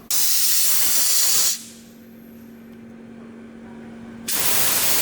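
A dry ice cleaning blaster works in a factory, letting out a loud, close, roaring hiss that stops for a few seconds, leaving a low steady hum, then bursts back on at full force.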